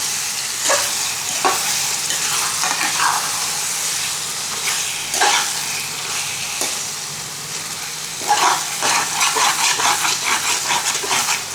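Prawns and tomato sautéing in a pan for prawn thokku, a steady bright sizzle with repeated scraping stirs of a spoon against the pan, close and fairly loud, with no talking.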